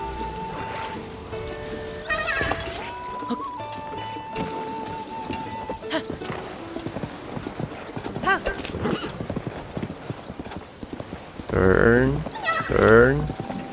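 Horse hooves clip-clop steadily as a horse is ridden along a road in the video game Zelda: Tears of the Kingdom, with game music and a couple of loud whinnies near the end.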